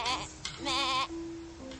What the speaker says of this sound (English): A goat says, meh, meh.